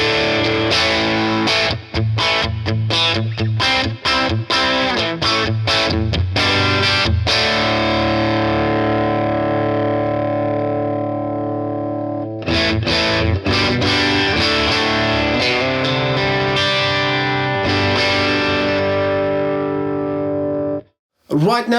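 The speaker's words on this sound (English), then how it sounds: "the drive channel, I'll be on the bridge pickup of this guitar." An electric guitar on its bridge pickup plays through the drive channel of a BOSS Nextone Stage amp, loud and distorted, with chopped rhythmic chords that give way to long ringing sustained notes, a brief pause, and then more strumming.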